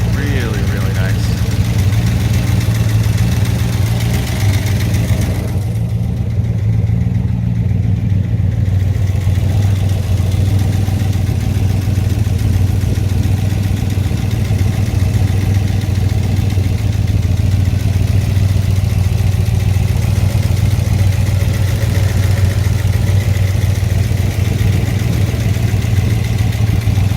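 A 1966 Corvette L72 427 roadster with solid lifters and side pipes idles steadily close by, a deep, loud, even rumble with a busy mechanical clatter over it, running unbroken throughout.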